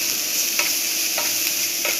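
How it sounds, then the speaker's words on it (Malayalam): A spoon stirs sweet unnakaya filling with powdered sugar and cardamom in a frying pan, a close scraping sound with a few soft regular strokes over a continuous faint sizzle. "ഇളക്കി കൊടുക്കാം."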